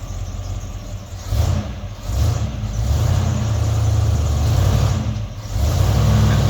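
A 1973 Chevrolet C10 short box pickup's engine runs loud and close, rising and falling in a few revs and surges over a steady rumbling idle, with no talking.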